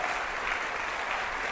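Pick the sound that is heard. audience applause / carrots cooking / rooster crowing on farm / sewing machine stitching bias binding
audience applause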